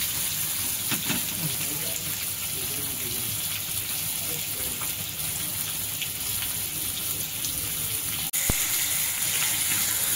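Four semolina-coated pomfret fry on a hot tawa, giving a steady, close, crackling sizzle that holds throughout, with a sharp metallic clink near the end.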